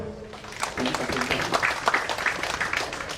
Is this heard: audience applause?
yes